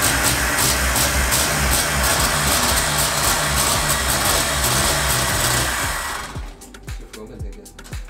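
Renault 4L engine running after restoration: a loud, steady, raspy engine roar held at high revs for about six seconds, then dropping to a rough, uneven idle, with voices under it.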